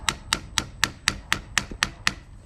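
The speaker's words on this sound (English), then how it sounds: "I need to tap this. Where's your little hammer?" A small hammer taps a metal part on a 79 Series Land Cruiser, about nine sharp, evenly spaced knocks, close and alone.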